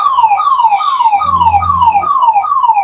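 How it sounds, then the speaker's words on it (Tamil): An ambulance siren sounds in hyper yelp tone, with very fast repeating downward sweeps that pulse loud and close without pause, briefly joined by a low rumbling underneath. "இப்போ நெக்ஸ்ட் நீங்க கேட்க போறது வந்துட்டு ஹைப்பர் ஹெல்ப்ன்ற ஒரு சவுண்ட்."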